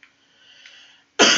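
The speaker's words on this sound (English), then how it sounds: "I don't want to have to cough a lot" A single loud, close cough bursts out abruptly at the end, preceded by near silence and a faint breathy murmur.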